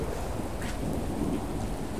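Continuous heavy rain in the game Remember Me, a dense steady hiss with faint rumbling underneath and no speech.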